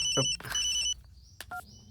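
A telephone rings indoors, with a high electronic ringing tone in two bursts, then a brief stray click and a short tone near the end.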